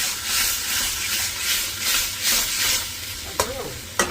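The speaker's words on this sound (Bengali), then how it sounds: "তো এটাকে আমরা একটু কষিয়ে নেবো দু দু থেকে তিন মিনিট কষাবো" A sautéing mixture for a paneer gravy stirred in a pan, rhythmic spatula scrapes sweeping over a constant close sizzle, with a couple of sharper knocks near the end.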